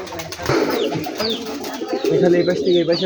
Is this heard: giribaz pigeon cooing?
yes